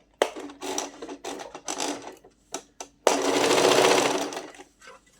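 Short clicks and brief clattering starts of a sewing machine, with the fabric turned and the presser foot lifted, lead into one longer, close burst of steady stitching.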